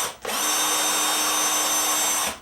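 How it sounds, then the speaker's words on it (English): Power drill boring into the metal base of a diecast toy car, one continuous high-pitched whine lasting about two seconds, close and loud, with no talk. "If the base does not split, you'll have to go back and drill it a little bit more."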